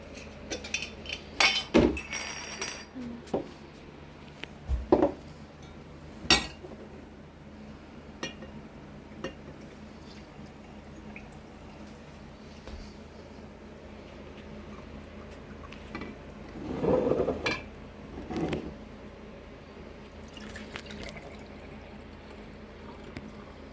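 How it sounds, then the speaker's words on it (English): Homemade chicken stock is poured into jars, with glassy clinks and taps of jar and utensil scattered through a steady low pouring trickle, a louder cluster of clinks early and a burst of splashing liquid near the end. "Now I gotta pour it in my jars."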